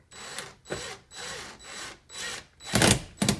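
A screw is driven into a wall stud through a pre-drilled hole while a sprinkler controller is mounted. Short bursts of a driver whir and grind repeat about six times at close range, each lasting around half a second, ending with louder final bursts.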